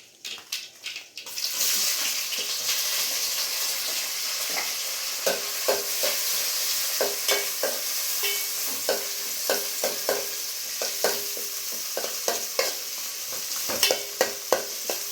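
Onions frying in a pan for an egg and okra curry, a continuous bright sizzle with frequent rhythmic scrapes and taps of a spatula stirring, close and loud, no talk.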